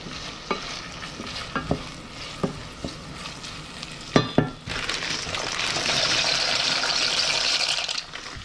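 Crab and lobster pasta sauce with lemon sizzles in a pan as it reduces, with a few stirring clinks and scrapes early on, then a steady close frying hiss building over the last few seconds.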